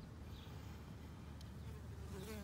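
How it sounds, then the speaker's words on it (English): Squash bees buzzing around squash flowers, a faint low insect drone with outdoor background noise and a brief closer buzz passing by. "So those were the squash bees."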